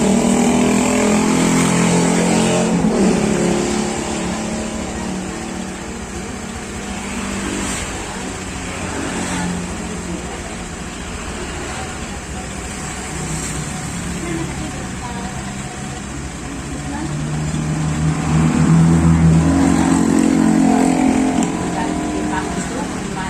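A Honda Beat motor scooter with unstable ignition and misfiring in a repair shop, its engine idling and revving as the throttle is opened, the revs rising and falling, with people talking over it.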